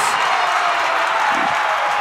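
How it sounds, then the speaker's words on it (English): A boys' high school basketball district game crowd, Kearney versus Gretna, roars loudly after a slam dunk, a steady, dense wall of cheering that holds at full volume throughout. "has an open Endorf for the slam, and the crowd erupts"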